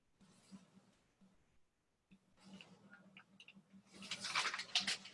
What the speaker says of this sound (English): I'm going to pour, I want 16 ounces of this salt, which is 1 pound.